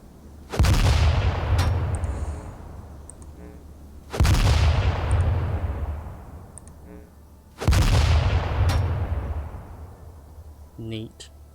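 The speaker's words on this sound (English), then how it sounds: "Where's the training grenades?" Three loud training-grenade explosions from the video game Atom RPG, each a sharp boom that decays over a few seconds, evenly spaced roughly every three and a half seconds, with faint game sounds between.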